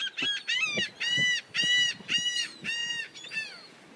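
A series of loud, harsh gull calls in quick succession, about seven raucous cries close by with short gaps between them.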